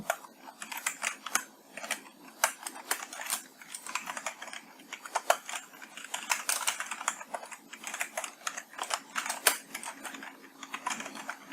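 Rapid, uneven clacking of a computer keyboard as code is typed, a dense run of key taps in irregular bursts throughout, with no voices.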